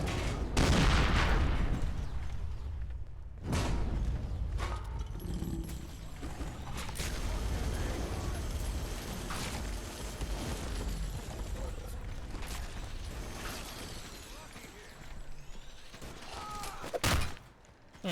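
A minigun fires in the video game Fallout 4 in loud sustained bursts of rapid gunfire with booming impacts and mechanical whirring, pausing between volleys, while a voice talks over parts of it.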